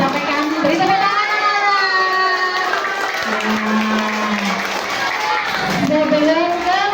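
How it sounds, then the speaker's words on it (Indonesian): Schoolchildren and audience at an elementary school Police To School event clap and cheer after a talk, a loud sustained wash of applause with children's shouts and voices mixed throughout. "Beri tepuk tangan."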